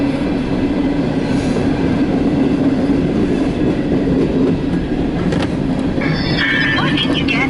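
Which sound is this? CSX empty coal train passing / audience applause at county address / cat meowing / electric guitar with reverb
CSX empty coal train passing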